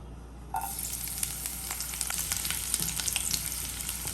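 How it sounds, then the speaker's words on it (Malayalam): Chopped garlic hits hot oil in a pan for a chicken roll filling, bursting into a sudden close sizzle that keeps crackling and spitting steadily, with no voices. "ആ എണ്ണ ചൂടായി കഴിയുമ്പോഴത്തേക്കും നമ്മൾ നുറുക്കി വെച്ചേക്കുന്ന ഈ വെളുത്തുള്ളി അങ്ങിട്ട് കൊടുക്കാം"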